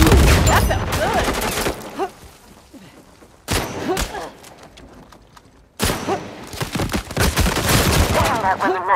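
Heavy gunfire from a sniper engagement in the video game Uncharted 4, loud bursts of shots and booms filling the first two seconds and the last three, with a quieter stretch between; a voice talks briefly under the action.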